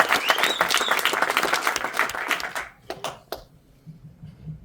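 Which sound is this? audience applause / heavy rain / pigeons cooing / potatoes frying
audience applause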